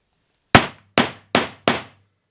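Four sharp percussive strikes of a mallet on a chisel chopping a 12mm mortise in a wooden chair frame, evenly spaced over about two seconds, each a crisp knock with a short ringing decay, no talk.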